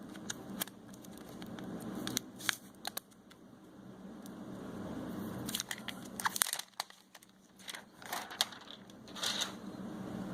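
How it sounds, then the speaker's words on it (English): Protective plastic film being peeled and crinkled off a new blue Samsung Galaxy A50 phone, a series of close, sharp crackles and rustles in irregular bursts with quieter pauses between. "Should peel this off right now"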